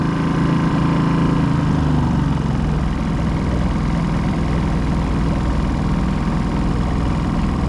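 A 16-foot open clacker-craft boat's engine idling on the water during a test run, a loud, steady low rumble that holds evenly without revving.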